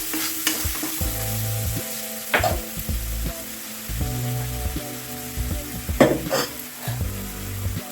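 A spice paste for soybean curry fries in a pan with a loud, steady sizzle, while clear tonal music plays in the background and a utensil scrapes and knocks now and then.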